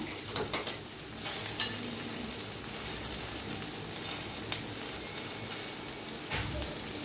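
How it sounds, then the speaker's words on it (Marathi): Okra frying in a pan gives a soft, steady sizzle at low level, with a few faint clinks of a spoon against the pan scattered through. "तर बघा छान असे भेंडी भाजलेले आहे"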